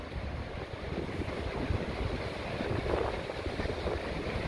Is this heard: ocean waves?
yes